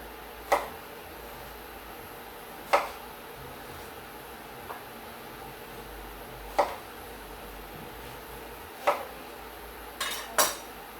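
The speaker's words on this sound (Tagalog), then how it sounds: "pagka iwanan nyo ng ganyan kakapal, pwede nyo siyang hiwain into squares" A knife cuts bottle gourd into squares on a board, giving six sharp chopping knocks spaced a few seconds apart over a quiet background.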